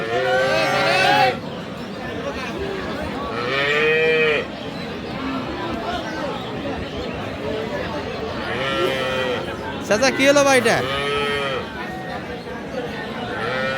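Large cattle, Friesian cows among them, low at a busy livestock market, with two or three drawn-out moos rising above steady crowd chatter and nearby talk.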